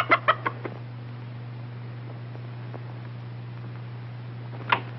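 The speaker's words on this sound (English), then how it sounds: "I have a hen sitting under the bed, and he likes to peck at her." A rooster clucks in a few quick bursts at the start and once more near the end, pecking at a hen beneath a bed indoors, over a steady low hum in an old 1940s film soundtrack.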